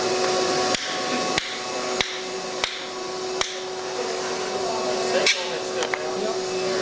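Several sharp, distinct taps to break hardened epoxy loose during skiff boat building, spaced irregularly over a loud continuous mechanical drone.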